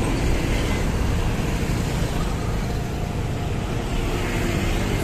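A tour bus pulls out of a bus body-builder's yard, its steady low engine rumble and road noise filling the scene continuously and close by, with no talking.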